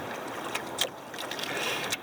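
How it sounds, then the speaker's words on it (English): A homemade dugout canoe moves on open water, with soft swishes and light splashes against the hull over faint wind noise, close and unhurried, with no voices. "I'm out on my canoe for the first time."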